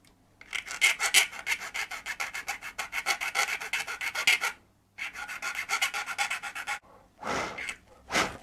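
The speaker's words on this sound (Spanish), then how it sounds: "y la lima." A metal file rasps back and forth on a small slot car part, for a McLaren 720S GT3 model, in quick rhythmic strokes. Close and clear, with two short pauses between bursts of filing.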